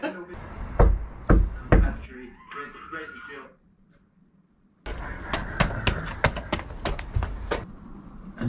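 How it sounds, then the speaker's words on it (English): A back door takes several sharp, close knocks, then a voice speaks, and after a short silence a longer run of quick raps follows under talking. "A knock on the back door."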